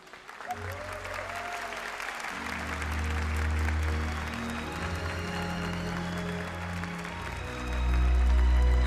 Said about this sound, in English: A huge round of applause here for the third place team of Team Subaru